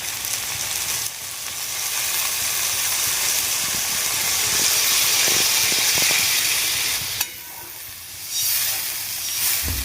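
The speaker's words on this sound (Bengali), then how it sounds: "তার মধ্যে আবার আমি জল দিয়ে দিচ্ছি" Soya chunk curry bubbles and sizzles loudly in a hot pan as water goes in, a steady close hiss with brief bursts of spitting and a sharp crackle partway through.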